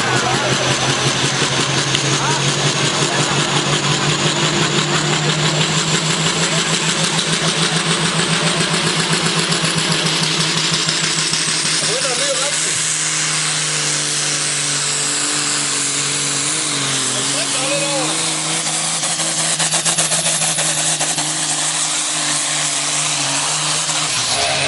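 A tractor engine roars continuously and loudly at a night tractor pull in Sønder Hygum, its pitch bending and straining midway as the pull goes on.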